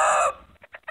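Chickens in a winter chicken house let out a loud, harsh squawk, then a few short, close clucks trail off in quick succession.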